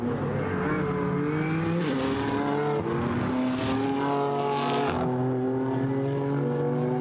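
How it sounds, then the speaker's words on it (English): BMW GT4 race cars at the Paul Ricard circuit, their loud, distinctive engines rising and falling through the gears as they pass close by, with several clear upshifts. "the BMWs that make this great distinctive engine note"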